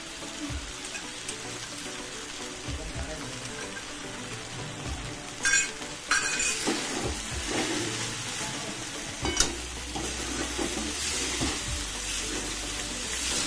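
Sabudana khichdi being stirred in a pan, a steady frying sizzle with soft scraping and a couple of sharper clatters of the spoon against the pan, close and continuous.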